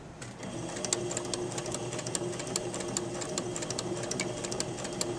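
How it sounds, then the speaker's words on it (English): A sewing machine runs steadily, stitching fabric with a fast, even mechanical chatter at moderate volume, with no talking. "I'm just guiding the fabric so that it stays straight, not pushing it."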